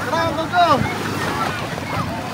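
Sea waves wash onto a white sand beach in Bolinao, Pangasinan, a steady surf hiss mixed with wind buffeting the microphone, while someone talks briefly over it near the start.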